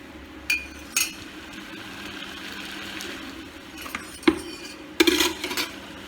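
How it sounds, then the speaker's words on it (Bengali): Mourola fish bati chorchori being stirred in a pot, with a few sharp clinks of a spoon against metal and scraping strokes over a quiet kitchen background, louder knocks bunching toward the end. "এবার এটাকে আমি নাড়িয়ে নিলাম"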